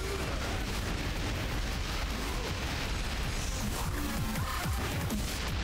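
Cannon fire in the video game Yakuza 0 sounds as dense, rumbling blasts layered into a loud, unbroken wall of booming noise.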